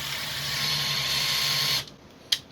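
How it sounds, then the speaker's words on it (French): A cordless screwdriver fitted with a wood bit drills into wood while building a wooden microphone stand, a steady close whirring motor drone that runs for under two seconds, then cuts off, followed by a brief click. "En fait, c'est une visseuse, c'était pas une perceuse"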